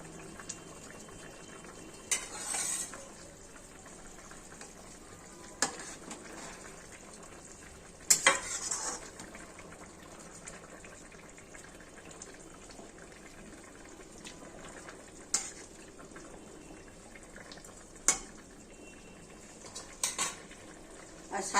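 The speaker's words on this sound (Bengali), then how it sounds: "এবার আমি এই সমস্ত মাছগুলি ঝোলের মধ্যে ছেড়ে দিচ্ছি।" Pieces of rohu-type fish simmer in a potato and tomato curry in a pan, with a soft steady bubbling and low sizzle broken by a few sharp clinks and scrapes of a spoon stirring against the metal.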